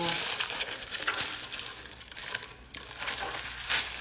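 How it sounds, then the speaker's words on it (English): Plastic packaging on a new cutting board crinkles and crackles as it is pulled open, a dense close rustling that continues for several seconds with brief dips. "I never opened my chopping or my cutting board."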